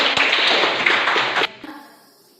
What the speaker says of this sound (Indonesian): Oke, kita tepuk tangan.